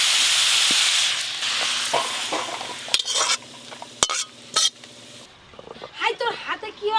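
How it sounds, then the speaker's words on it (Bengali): Vegetables for khichuri lightly frying in a pan, with a bright steady sizzle and hiss, stirring scrapes and clanks of the utensil, and a voice talking over it partway through. "খিচুড়ির সবজি খুব ভালো করে ভাজতে লাগে না, অল্প ভেজে নিলেই হয়ে যায়"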